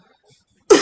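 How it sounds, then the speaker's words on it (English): A single short cough, close and loud, bursting out suddenly after near silence. "Just had a cough"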